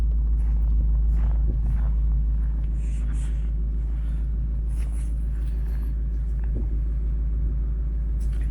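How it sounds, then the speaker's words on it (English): BMW M5 Competition xDrive with its exhaust valve open, idling on a frozen lake: a steady, loud, deep engine rumble that holds throughout with no talk over it. "this M5 is with the exhaust valve open, as you can hear"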